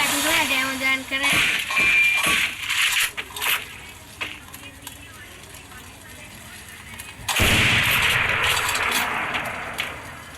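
Gunfire from the video game Free Fire crackles in bursts over the first few seconds, then a loud blast of noise bursts out midway, with people talking over the game sounds.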